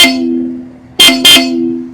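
A Blaupunkt Velocity Power horn fitted to a Geely Okavango blares loud and close in two short blasts over a sustained steady tone.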